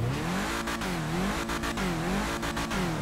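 A BMW Estate car in GTA Online revs hard, its engine note climbing and dipping in three surging waves with brief cuts between them, loud and close with no talk.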